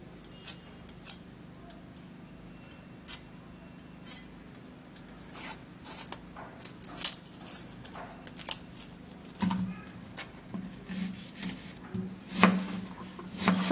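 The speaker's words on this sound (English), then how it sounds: "So I'm going to be cutting the onion." A half onion is sliced with a knife in irregular, crisp cuts, sparse at first and then coming faster, heard up close with no talking.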